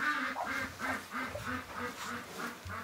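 A Muscovy duck calls near a nest of eggs with a rapid, rhythmic run of soft breathy quacks, about a dozen evenly spaced calls, close and alone.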